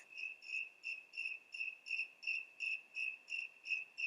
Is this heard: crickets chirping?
yes